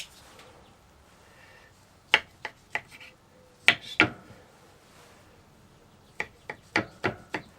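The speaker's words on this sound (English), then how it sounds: "I'm going to cut it in quarters just so it'll cook up a little better" A knife quarters morel mushrooms on a cutting board, giving sharp, close taps in small irregular clusters with quiet pauses between them.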